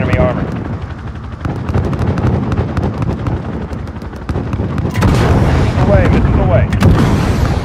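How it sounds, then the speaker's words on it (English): In a video game battle, a missile is fired at enemy armor amid a dense, continuous roar of heavy gunfire and explosions, with voices talking over the din. "Hit him with a missile."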